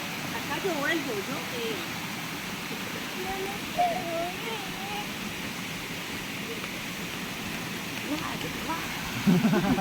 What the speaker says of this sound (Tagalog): Maliit na falls, waterfalls.